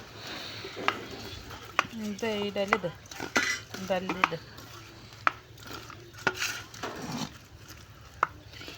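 Mashed red lentils being mixed by hand for a winter lentil bhorta with salt in a home kitchen, giving soft, irregular squishing and stirring sounds with occasional sharp clicks of utensils against a bowl, close up, with brief speech in places.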